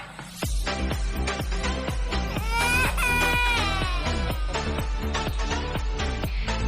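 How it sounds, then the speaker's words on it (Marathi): Young boy crying at a doctor's clinic, loud rhythmic sobbing wails in repeated bursts, close and continuous, with no talk over it. "डॉक्टर तपासायच्या आधीच लगेच रडायला चालू करतो"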